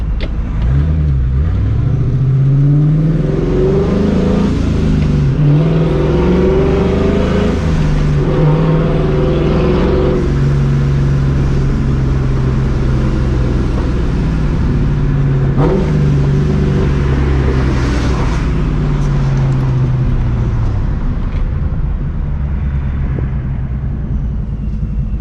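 Supercharged New Edge Mustang GT driving with a deep, continuous engine rumble and rising revs, blended with steady road noise and rushing air, loud and close throughout.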